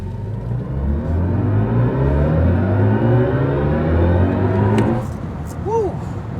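BMW i5 M60 xDrive electric sedan accelerating hard, its synthetic drive sound rising in layered tones for about five seconds before easing off, heard loud from inside the cabin with an exclamation of voices near the end.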